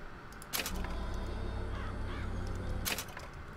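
Cawing crows summoned by the Murder of Crows power in Bioshock Infinite, a flock of harsh caws with a whooshing burst at the start and another near the end, over game background noise.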